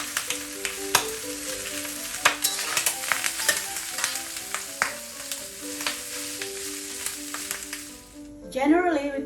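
Pork skin frying in a hot wok for scratchings, crackling and popping steadily with sharp spatters, then a brief higher squeal near the end.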